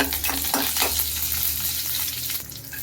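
Mustard seeds and curry leaves sizzling in about three spoons of hot oil, a dense, bright crackle with a few sharper pops, close and continuous.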